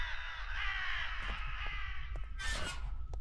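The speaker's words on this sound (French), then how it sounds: "Des corbeaux." Crows caw in the horror game Paranormal Place, several harsh calls scattered over a hissing ambient background, moderately distant and fairly faint.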